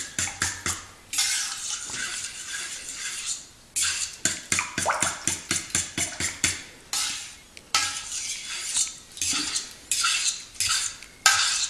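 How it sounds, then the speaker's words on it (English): Eggs being beaten with sugar in a bowl for cinnamon bun dough, a utensil clinking and scraping against the bowl in quick, uneven bursts, close and fairly loud, with no talking. "If you beat them together with the sugar inside there"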